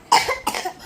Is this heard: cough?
yes